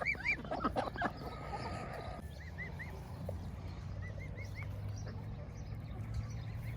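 Farm poultry near a morning coop give short honking and squawking calls, louder at the start, then a few quieter repeated chirps over low ambient rumble, with no talking.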